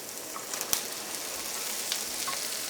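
Chopped ivy gourd dropped into hot coconut oil with turmeric, giving a steady close sizzle and crackle with a few sharp pops.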